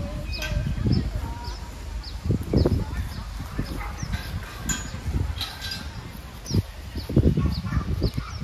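Chickens cluck and squawk in short bursts at a beach picnic spot at Pasir Ris, Singapore, amid outdoor bustle and background voices, with several louder calls standing out.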